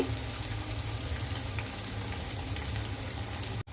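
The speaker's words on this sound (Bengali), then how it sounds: "আমার পেঁয়াজ ভাজা হয়েছে" Onions frying steadily in hot oil for a large five-kilogram batch of Eid beef curry, a continuous dense sizzle with no talk.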